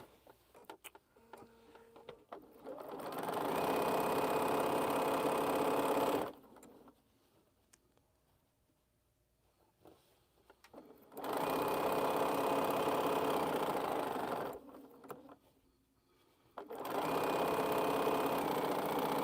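A Bernina sewing machine stitches quilt squares in three long, steady runs of rapid mechanical whirring, each several seconds long, separated by quiet pauses with faint handling clicks.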